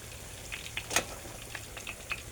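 Banana slices frying in oil over a charcoal stove as they are gently stirred, a soft steady sizzle with light scraping clicks and one sharper knock, close and fairly quiet.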